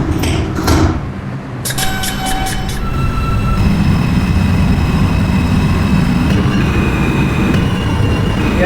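Interior of a Greater Figglehorn metro train running westbound toward Sunset Mall, with a steady loud rumble of wheels on rails, brief high squeals and tonal whines near the start, continuous and close.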